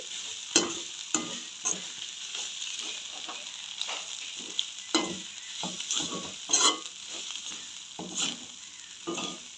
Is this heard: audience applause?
no